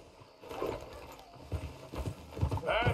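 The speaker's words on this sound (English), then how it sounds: "get back on the horse" Horse hooves clip-clopping in the video game Red Dead Redemption 2, a steady rhythmic trot under low background game sound, with a brief whinny near the end.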